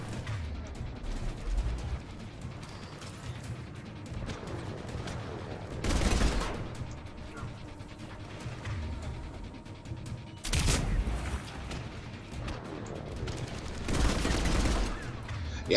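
Bursts of assault rifle fire in Mass Effect 3, with loud rapid volleys around six, eleven and fourteen seconds over a steady bed of game noise and music.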